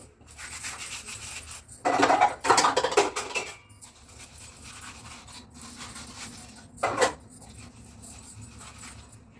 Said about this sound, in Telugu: ఈ విధంగానైతే గిన్నెలు అయితే తోమేస్తున్నామండి